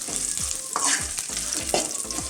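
Ginger, cloves, cardamom and pepper fry in a pan for a chicken and potato curry, crackling in a loud, dense sizzle with repeated stirring scrapes, close up and without speech.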